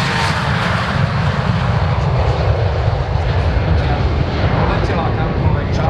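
A Fokker 100 jet of the Slovak Government takes off at the Piešťany aviation festival, a loud, steady, close roar of engines filling the air throughout.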